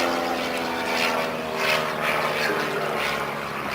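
Steady propeller drone of a de Havilland Chipmunk flying at an autumn air show at Duxford, a loud, continuous engine hum with slight swells as the aircraft passes.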